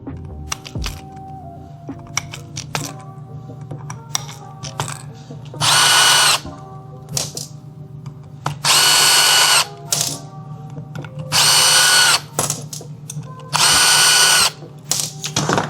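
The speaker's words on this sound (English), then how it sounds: "take another T25 and you will break all these bolts loose" A power tool with a T25 bit whirs in four loud, evenly spaced bursts, each a second or so long, as it loosens the transmission solenoid plate bolts on a 2019+ Cummins 68RFE, with clicks and clatter between bursts.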